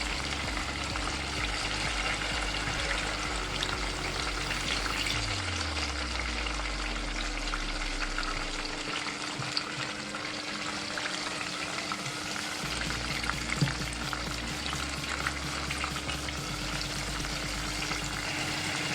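Turon banana eggrolls frying in oil, a steady close crackling sizzle that runs throughout with occasional stirring and turning noises and no talking.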